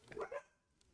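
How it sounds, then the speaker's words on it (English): A dog gives a quick pair of barks indoors, fairly faint and somewhat muffled, followed by near silence. "back to barking."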